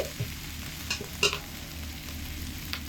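Spices frying in oil in a pan for ghugni, with a steady sizzle broken by a few brief stirring clicks and scrapes, close and moderately quiet, with no talk.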